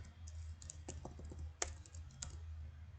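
Code being typed on a computer keyboard: a few sparse, faint clicks, then a brief flurry of keystrokes and a couple of sharper taps over a quiet low hum.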